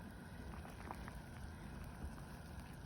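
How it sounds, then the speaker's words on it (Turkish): Cherry juice in a pot bubbles at a steady, soft rolling boil, with faint continuous crackling and popping close by and no voices. "Şu anda kaynıyor ve rengine vermeye başlamış zaten."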